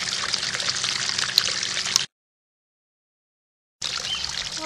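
A small goldfish pond waterfall trickling and splashing steadily, close and even, a continuous watery wash that cuts out briefly to silence before resuming.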